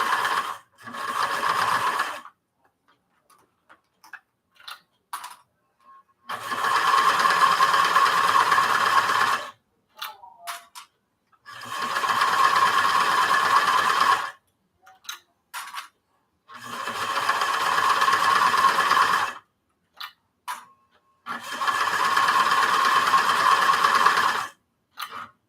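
Sewing machine stitching a flannel nightie, running in five steady bursts of a few seconds each with short quiet pauses and light clicks between them, close and fairly loud.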